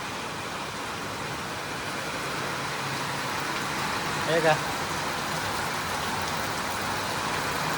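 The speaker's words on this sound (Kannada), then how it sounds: "ಇವಾಗ ಮಳೆ ಬರಾಕತ್ತದ ನೋಡ್ರಿ." Evening rain falling in a village around 7:15, a steady broadband hiss that holds throughout at moderate level, while a person speaks briefly over it.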